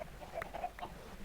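Minecraft chickens clucking, several quick faint clucks in a short burst.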